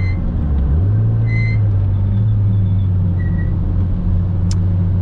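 Car engine heard from inside during an onboard drive: a steady, loud low drone whose pitch shifts and then holds as the car cruises, with faint higher tones over the constant cabin rumble.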